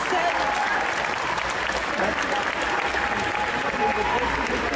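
Audience applause for cosplayers at an indoor cosplay contest, a dense, steady wash of many hands clapping at full strength throughout, with crowd noise mixed in.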